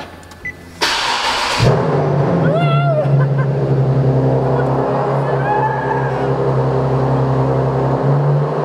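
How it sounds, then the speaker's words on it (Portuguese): A new car's engine cranks and catches after a short burst of noise, then settles into a steady, close idle with a low rumble that continues to the end. "Vamos ligar o motor."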